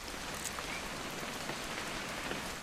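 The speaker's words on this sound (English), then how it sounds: "It's gonna rain the whole weekend, isn't it?" Steady rain falls throughout on a hunting trip in What Remains of Edith Finch, a dense, even hiss of drops with no voices.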